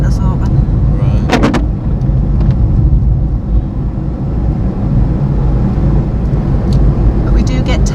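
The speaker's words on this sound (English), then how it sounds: "this is unusually busy traffic" Steady, continuous road traffic near a quiet residential spot, cars rumbling past close by with a low constant drone and occasional brighter swells as vehicles go by; no clear talk over it.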